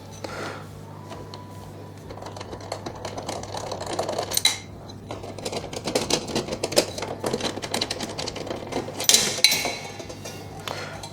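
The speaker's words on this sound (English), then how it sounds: "Simply going to remove the thumb screws." Thumb screws being unscrewed and lifted off an XLT 1620 countertop oven during cleaning, giving a run of light metallic clicks, taps and small clatters close by, with faint background hum.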